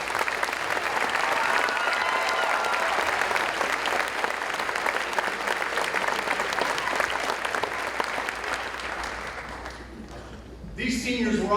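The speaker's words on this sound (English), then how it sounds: "Please give these graduates a round of applause." Sustained applause from a crowd at a high school graduation ceremony honoring the Class of 2023 graduates, dense and steady for about ten seconds before thinning, with a brief swell near the end.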